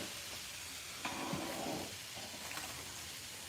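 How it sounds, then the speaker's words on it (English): Chicken fries in hot oil while cooking for a wedding ceremony in Ghana, a faint steady sizzle with a brief louder burst of hissing partway through, heard without talk. "Yeah, we're frying chicken."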